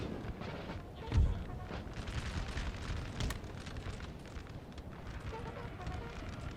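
A bomb goes off on a Napoleonic battlefield in Napoleon Total War with a sharp, heavy blast. A dense roar of gunfire and battle noise continues under it.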